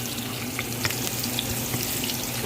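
Onion frying in oil in a pan, an even, close hiss and sizzle with light scattered crackles, steady throughout and without speech.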